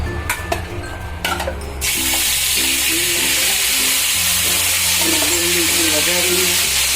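A pinch of asafoetida drops into about three spoonfuls of hot oil, followed by a sudden steady sizzle that keeps going loud and close, with a few clinks of a spoon or pan just before.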